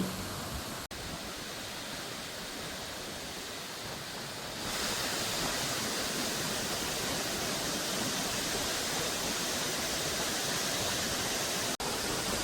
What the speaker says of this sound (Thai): น้ำตกแม่เตียนะมีความสูงประมาณ 80 เมตร ความกว้างก็ประมาณ 40 เมตรครับ